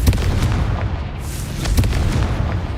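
A booming, crackling blast from the Confringo fire spell in the video game Hogwarts Legacy, loud and dense, layered with rumbling game effects and several sharp bursts.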